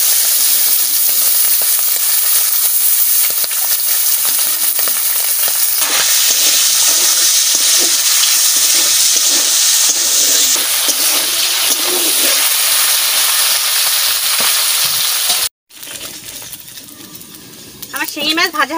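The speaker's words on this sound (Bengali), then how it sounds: "তেল দিয়ে দিচ্ছি, গরম হয়ে গেছে, আমি শিঙি মাছ দিয়ে দিচ্ছি।" Singi fish dropped into hot oil fries with a loud, steady sizzle and crackle that runs unbroken for most of the stretch, then cuts off and resumes softer with light scraping.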